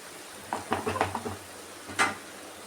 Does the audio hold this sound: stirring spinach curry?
yes